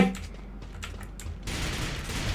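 Gunfire from an AK47 Unicorn rifle in a shooting video game, a short burst of crackling shots that gives way to a denser, rougher spray of fire.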